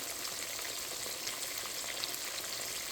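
Catfish fillets sizzle in frying oil, a steady hissing crackle with fine pops, moderately quiet and unbroken, with no one talking.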